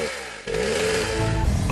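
Chainsaw running close by, a buzzing motor whine that drops briefly then revs back up, steady and loud for under two seconds, with no voices.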